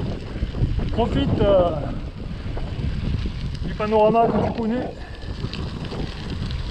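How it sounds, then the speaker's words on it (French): Wind roars and buffets the microphone while a gravel bike is ridden outdoors, a steady loud rush with someone speaking briefly over it. "il y a du vent, je sais pas si tu vas m'entendre"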